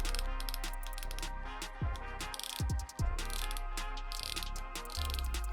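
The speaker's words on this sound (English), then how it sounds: "clicking noise you hear is the star drag" The star drag on a 2020 Daiwa Alphas Air TW BFS baitcasting reel clicks in a quick ratcheting run as it is turned, close up, with brief pauses and small mechanical knocks between bursts.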